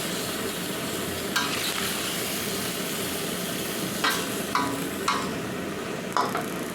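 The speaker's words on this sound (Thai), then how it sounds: "เล่นไฟนะคะ แล้วผัดคลุกเคล้าให้หอมนิดเดียวเอง" Food stir-fried in a small wok over high heat, ingredients tossed briefly before simmering with pickled mustard greens, with a steady sizzling hiss and several sharp scraping clacks of a spatula against the pan.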